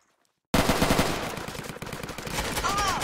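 Video-game gunfire during a war roleplay: after a short silence, a rapid automatic burst of loud shots rattles on continuously, with a shouted voice briefly underneath.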